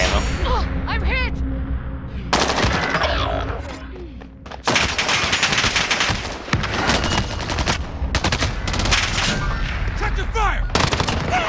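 Shooter video game gunfire: repeated loud bursts of automatic fire and single shots, close and sustained, with brief lulls between volleys.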